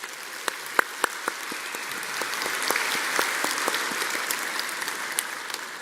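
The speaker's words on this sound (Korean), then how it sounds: "박수로 한번 격려합시다." A church congregation applauds its choir, orchestra and accompanist, a moderate wash of clapping with a few sharp individual claps standing out near the start.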